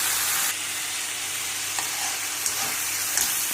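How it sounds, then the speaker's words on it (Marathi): Chopped cabbage roasts in a pan without added water, giving a continuous close sizzle and crackle with a few sharp clicks of stirring against the pan. "आता 5 मिनटं कोबी असा भाजून घ्यायचा, कारण कोबीमध्ये पाण्याचा अंश जास्त असतो."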